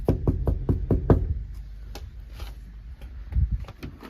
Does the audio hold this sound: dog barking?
no